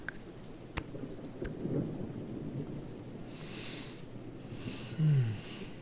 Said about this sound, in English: I find its rainy ambience to be rather soothing.